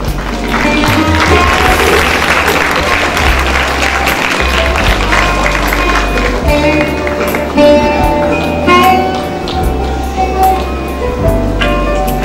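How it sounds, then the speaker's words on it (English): Audience applause at a school award ceremony, steady and loud across the hall for a student honoured with a top score, with background music or tones sustained underneath throughout. "can we have another huge round of applause for this young, bright face in the school"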